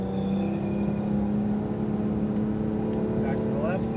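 Sports car accelerating on a race track at Speed Vegas, a steady loud engine drone holding a constant tone with some wind and road roar, and a faint rising whine near the end.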